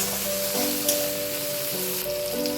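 Dal hitting hot oil with garlic crackles in a steady, close sizzle, with a faint low tonal hum running beneath the frying.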